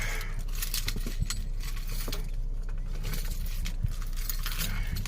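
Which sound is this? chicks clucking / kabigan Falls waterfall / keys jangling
keys jangling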